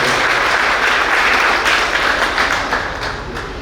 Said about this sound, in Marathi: त्या मातासाठी एक जोरदार टाळ्या आपण सर्वांनी केल्या पाहिजे